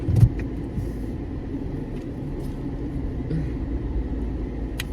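Steady low road rumble inside a moving car as it pulls up, with a faint thump at the start and soft ticks over the engine and tyre noise.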